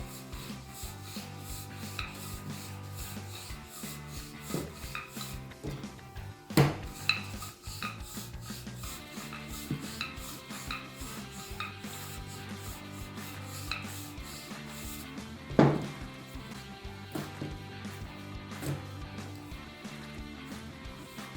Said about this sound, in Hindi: थोड़ा सा मैं इसके ऊपर डस्ट करूँगी मैदे को और मैंने इसे बेलूँगी।